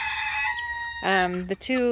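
Bantam and barred rock hens, the barred birds striped black and white, sound off in a backyard chicken tractor with a leghorn rooster nearby, giving a few close, sharp clucks and calls over a steady flock murmur.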